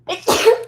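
One loud, close sneeze: a quick in-breath followed by a sharp burst that fades, during a live talk show.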